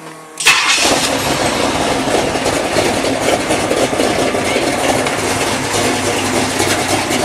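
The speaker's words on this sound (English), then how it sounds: "I'm going to crank up the big bad Pontiac and let you hear the cam" A big Pontiac V8 engine cranks and roars to life, then settles into a loud, rumbling, lopey idle close by.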